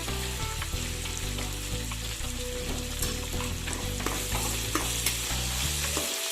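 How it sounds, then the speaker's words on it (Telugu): Onions fry in a pan for poha upma, a dense, constant sizzle close up with faint scraping stirs running underneath throughout, and no talk. "ఆనియన్స్ లైట్గా మెత్తబడితే చాలండి, ఎక్కువ వేగాల్సిన అవసరం లేదు"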